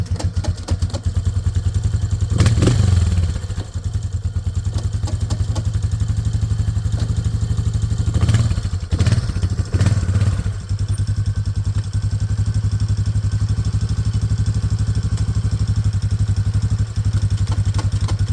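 A 2003 Yamaha Big Bear 4x4 ATV engine runs loud and close at a steady idle, its low throb punctuated by a few clunks and knocks around shifts, with no talking.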